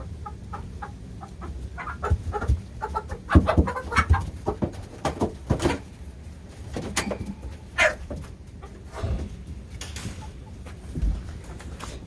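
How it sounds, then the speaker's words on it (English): Chickens being moved to a winter home cluck and squawk in a busy, irregular stream of close calls, with scattered sharper bursts and rustling throughout. "And there's one chicken."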